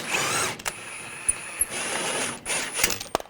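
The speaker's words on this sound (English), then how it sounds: "Take this nut and bolt out." Sharp metallic clicks and clanks come from an 18mm wrench and socket loosening a nut and bolt on the front lower control arm of a 2013-2015 Chevrolet Malibu. Several brief close knocks stand out over a steady low hiss.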